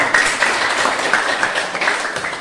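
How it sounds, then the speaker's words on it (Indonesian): A classroom of students applauding group 1, a short burst of steady, moderately loud clapping from many hands with no voices over it. "Berikan aplaus dulu untuk kelompok 1."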